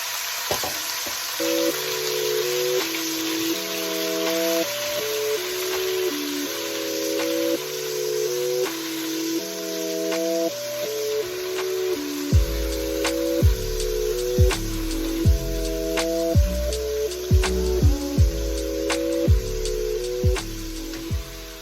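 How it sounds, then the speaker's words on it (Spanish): Ground meat frying in olive oil, a steady close sizzle with scattered pops growing more frequent later on, heard under a melodic music track. "Ahora vamos a sofreír el picadillo."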